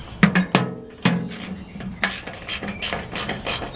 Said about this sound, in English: I thread them right through the wedge anchor, put the nut over it, and then with the simple ratchet here